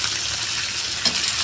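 Bangus milkfish fries in hot oil in a pan, giving a steady, loud, close sizzle with a faint clink partway through.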